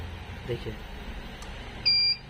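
An inverter buzzer on a Genus Surja 900 inverter under repair sounds as a short, steady electronic tone lasting about a quarter second, over low background hum and faint speech.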